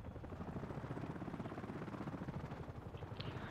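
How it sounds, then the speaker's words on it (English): Attack helicopter in Battlefield Play4Free, rotor blades and engine warming up on startup: a steady, dense low whirring drone with rhythmic chop that holds at an even loudness throughout, with no talk over it. "Upon starting up an attack helicopter, the rotor blades and engine need a warm-up."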